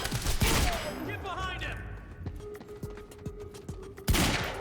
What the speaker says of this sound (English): Pick a heavy pistol. One shot, one kill.